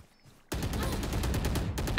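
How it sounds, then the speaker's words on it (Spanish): A rapid burst of automatic gunfire rattles continuously in the Valorant shooter game, a dense, steady string of shots erupting abruptly after near silence and running for over a second with a brief gap before more. "Ahí, miren los disparos."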